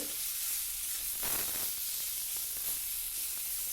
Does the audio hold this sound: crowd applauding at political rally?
no